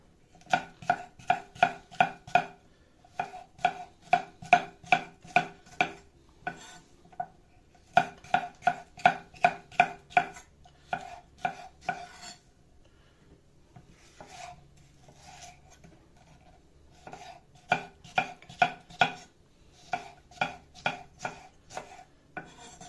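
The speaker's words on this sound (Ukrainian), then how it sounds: "Тепер болгарський перчик. Нарізаємо соломкою." Knife chopping bell pepper into thin strips on a board, quick even bursts of crisp taps in rhythmic runs with short pauses between, close and clear with no talking.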